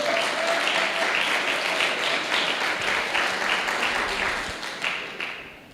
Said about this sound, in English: Maybe let's clap for now so that you give me a break.